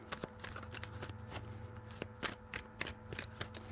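Tarot cards being shuffled in hand, a quick run of crisp riffling snaps and soft slides close up, with no talking.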